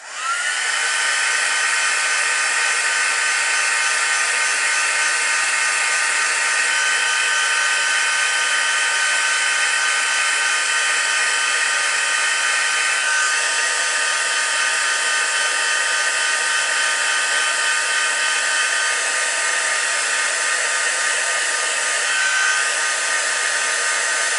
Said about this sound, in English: let's get these heat set